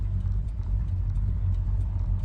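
A Ford Falcon XB coupe with a standard 351 engine drives along, giving a steady, loud low rumble throughout with no talk over it.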